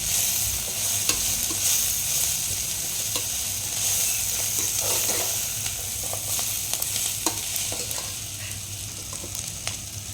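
Leafy greens fry in a pan with a steady, close hiss of sizzling oil, broken by light scraping and stirring taps throughout.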